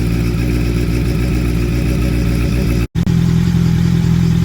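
A Honda 650F motorcycle with a newly fitted aftermarket exhaust idles steadily, a deep, even, throbbing rumble close by, briefly cut by a split-second dropout before the idle continues.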